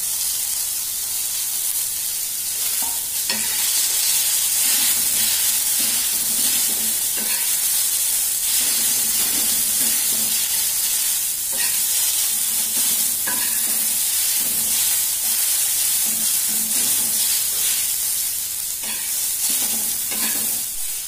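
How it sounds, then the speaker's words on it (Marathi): Garlic, ginger and coconut fry in hot oil, hissing loudly and continuously up close while a spoon scrapes and stirs the pan in repeated strokes throughout. "त्यातच आपण लसूण आणि अद्रक टाकू आणि खोबरंही टाकू"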